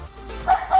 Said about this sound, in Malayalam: ഇതിൽ പട്ടിയുണ്ട്.